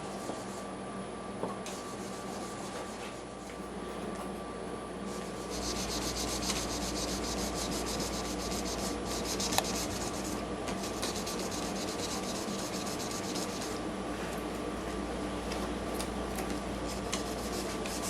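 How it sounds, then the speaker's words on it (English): A cork buffing wheel polishes the top of a guitar with a continuous, faint rubbing and whirring hum that carries steadily throughout, growing slightly fuller partway through. "I'm going to go up onto my buffing wheel and I'm going to do a little fine little polish on the top."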